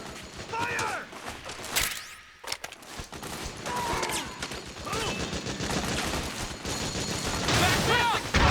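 Rapid automatic gunfire and scattered shots crackle through a battle in Metal Gear Solid 4: Guns of the Patriots, with bursts rising toward the end while soldiers shout over the din.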